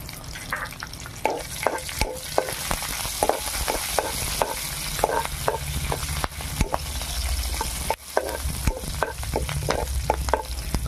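Dried red chillies, cumin, mustard seeds and curry leaves sizzling in hot oil in a kadai for tempering, a loud continuous fry with sharp crackles and spatters and a spoon stirring throughout.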